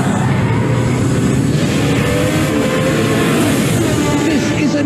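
A race car engine roars during a Formula One film scene. The drone is loud and continuous, with voices talking over it.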